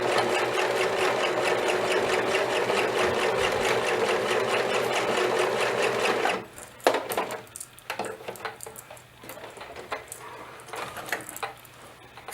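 Sewing machine running a blind hem stitch on a flat piece of fabric, a steady close whirring buzz for about six seconds, then stopping and giving way to softer handling clatter.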